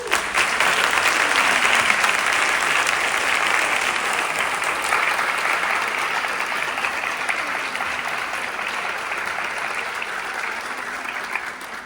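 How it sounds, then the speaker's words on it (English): Sustained applause from an audience at an award presentation for an academic fellowship, a dense, even wash of clapping that holds steady and then fades slightly toward the end. "she saw you applauding just now"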